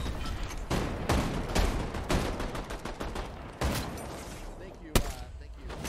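A gun firing in Fortnite, loud close shots in an irregular series with strong sharp reports, with a voice talking through the shots.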